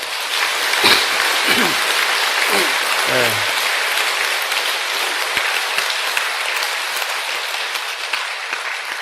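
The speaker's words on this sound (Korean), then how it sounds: "박수 좀 크게 칩시다." Loud, sustained applause fills a Buddhist Sunday dharma hall as the congregation claps hard and steadily throughout, with a few brief voices surfacing early on.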